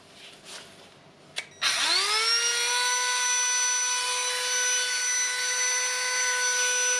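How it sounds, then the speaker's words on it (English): A Milwaukee M12 sharpener, repaired after its motor stopped, whirs up abruptly after a couple of faint clicks, then holds a loud, steady, close-up motor whine as the blade spins for several seconds. "The blade is spinning inside"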